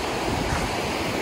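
Steady wash of sea surf and wind at a beach in Manguf, Kuwait at sunset, a continuous broadband roar with gusty wind buffeting the microphone and no voices.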